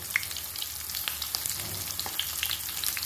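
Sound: frying offal filling for blood pudding dish in pan

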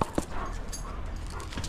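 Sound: dog growling while playing

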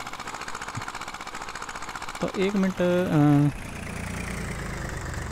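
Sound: Zetor tractor engine in Farming Simulator 18 video game

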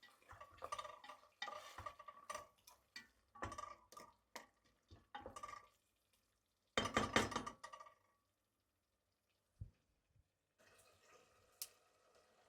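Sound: stirring bone broth lentil soup in a pot

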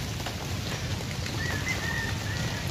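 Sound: light drizzle of rain before a typhoon

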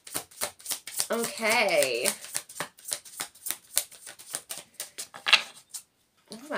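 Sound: shuffling tarot cards

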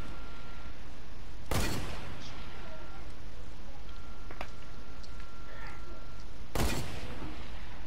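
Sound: gunfire in a video game

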